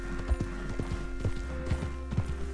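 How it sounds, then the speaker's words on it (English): Horse hooves trotting on the ground in Red Dead Redemption 2, an even, quick clip-clop rhythm of close, fairly quiet hoofbeats with no talk over them. "Your horse can't run forever."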